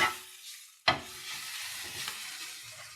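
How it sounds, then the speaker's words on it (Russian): Carrots fry in a pan with a soft, steady sizzle, broken by a sharp scrape and rattle as they are stirred, then the quiet hiss of frying continues. "Сейчас морковка обжарилась."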